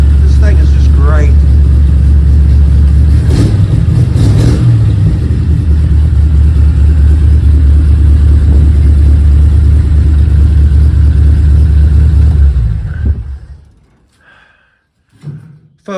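An old Eliza 40 car, abandoned for 56 years, starts after a month idle and revs loudly for about twelve seconds, then cuts out to near silence with faint sounds after.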